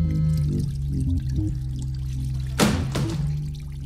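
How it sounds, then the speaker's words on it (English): A submarine settles onto the ocean floor in a staged audio drama, heard as a deep, rumbling hum with two sharp, rushing thuds near the end. "That was us touching down on the ocean floor."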